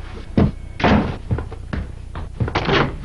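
A door slams in a French Yoplait yogurt TV advert, with several heavy thuds and knocks in uneven succession, loud and close.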